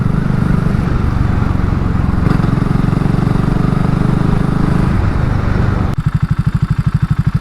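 A 2022 BSA Gold Star single-cylinder motorcycle rumbles steadily while ridden at speed, then near the end drops to a slow, loud, evenly pulsing idle as it comes to a stop.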